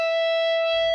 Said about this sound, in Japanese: このチョーキングして上げた音程。